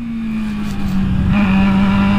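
A Honda CB300 motorcycle engine is revved by hand on the throttle, a loud close idle tone that climbs steadily in pitch as the revs rise.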